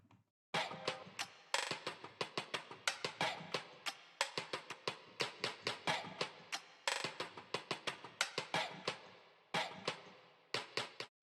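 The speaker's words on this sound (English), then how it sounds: "this is the main perk loop that inspired me to come up with this beat" A choppy, high-pitched boom bap percussion loop of rapid clicky hits in a repeating rhythm, bright and dense, with no one talking.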